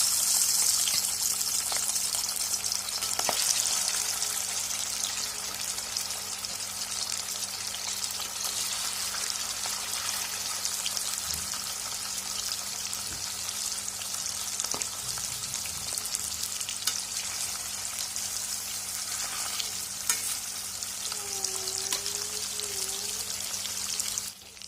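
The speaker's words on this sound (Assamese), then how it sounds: "এতিয়া মই মাছ কেইডোখৰ ফ্ৰাই কৰি লওঁ।" Pieces of fish frying in a pan for a mustard fish curry, giving a steady, continuous sizzle throughout with a few faint clinks and stirs, no talking.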